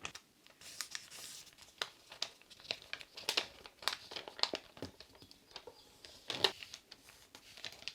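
A paper sewing pattern for a corset top being folded at the dart, heard as close crinkling and rustling with sharp crisp bursts, alone without speech.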